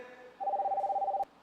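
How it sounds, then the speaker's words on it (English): A telephone line sounds one steady dialing tone lasting under a second, faint and alone with no talk. "Let me just connect the phone here."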